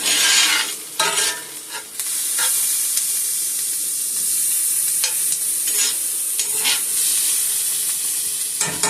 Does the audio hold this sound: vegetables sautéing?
yes